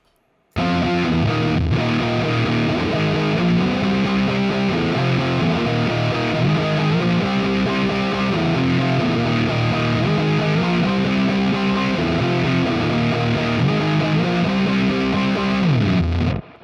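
Distorted electric guitar dialed in on a Quad Cortex to recreate the tone of a song, finished with simple low and high cuts, playing a loud, filthy, fuzzy riff alone for about sixteen seconds before stopping abruptly.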